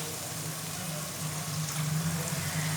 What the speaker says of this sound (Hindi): और साथ ही डाल देंगे थोड़ा सा पानी,